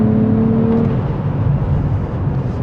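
A 2027 Nissan Z Nismo engine drones steadily while driving, a close, sustained low growl with a brief tonal whine at the start, no voices over it.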